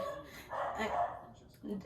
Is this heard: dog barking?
yes